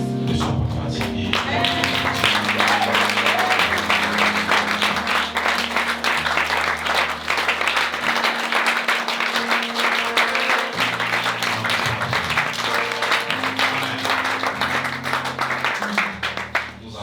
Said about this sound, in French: il est dit de pouvoir recevoir encore les acclamations